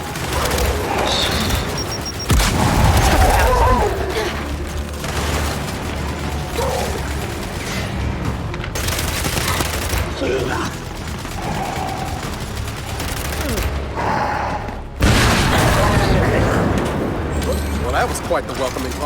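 Video game Gears 5 combat: rapid gunfire rattles almost continuously, broken by heavy booming grenade blasts near 2.5 and 15 seconds, with shouted voices mixed among the shots.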